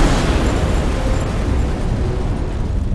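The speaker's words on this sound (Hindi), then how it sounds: "इसको उड़ा देते हैं।" A wall blows apart in the Godzilla Strike Zone video game with a loud, sustained explosive roar that fills the whole stretch, rumbling heavily and continuously without a break.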